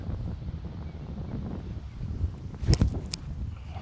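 Outdoors during a disc golf round, steady low wind rumbles and buffets the microphone throughout, with a brief louder gust and a couple of sharp knocks near the end.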